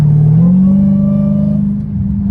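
Straight-piped Dodge Hellcat Redeye revving up close, a steady rising supercharger whine riding over a loud, rumbling exhaust drone that holds for a couple of seconds.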